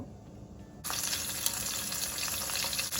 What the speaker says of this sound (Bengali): মাছগুলো আমি আগে ভেজে নেব